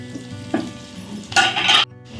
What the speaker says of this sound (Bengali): খিচুড়ির আলুটা এখন ভাজা হচ্ছে